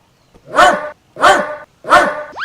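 A person imitates a dog barking: three loud, evenly spaced woofs, close up, separated by brief silences.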